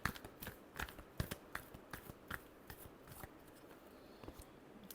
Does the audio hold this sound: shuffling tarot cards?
yes